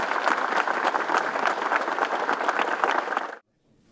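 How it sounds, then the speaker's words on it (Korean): Mourners, fellow comedians, applaud a deceased comedian at his memorial: a sustained burst of clapping that stops abruptly into near silence. "선배님께 큰 박수 한번 드리는 시간 갖도록 하겠습니다"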